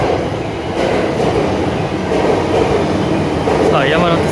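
A train at the Ueno station platform makes a steady, loud rolling rumble throughout, with a faint wheel squeal rising near the end.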